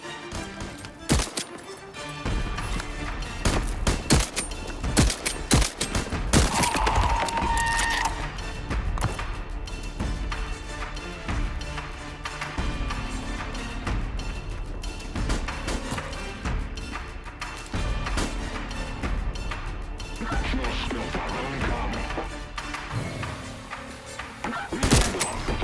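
Gunfire in Voidtrain, the game, crackles in scattered shots throughout a busy, continuous game soundscape, mid-level in loudness with no clear pauses.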